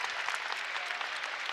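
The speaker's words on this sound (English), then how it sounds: "Nice round of applause for Smith as he heads to the sideline" A basketball crowd at a state high school tournament game applauds as a player leaves the court, steady dense clapping from many hands, fairly distant and even throughout.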